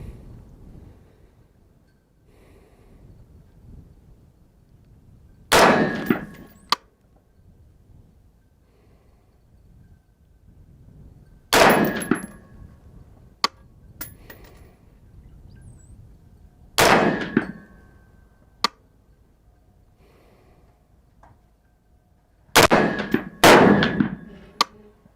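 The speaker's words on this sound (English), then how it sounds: "5 rounds. We're going to shoot the top left-hand target." A WK180c Gen 2 rifle on an Atlas bipod fires Sierra MatchKing rounds at steel targets: about five sharp, loud reports spaced several seconds apart, some ringing with metallic clangs, with faint breathing between shots.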